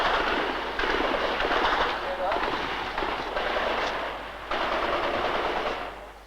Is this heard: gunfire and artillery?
yes